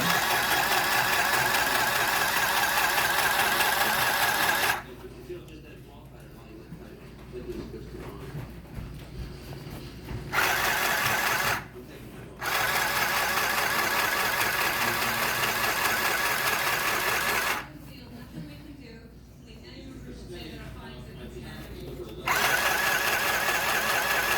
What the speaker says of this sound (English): what I do is I just fold